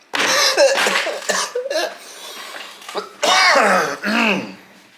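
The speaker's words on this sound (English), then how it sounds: "I'm gonna cough now." Several harsh, throaty coughs come in bursts, close to the listener, with ragged breaths and throat clearing between them.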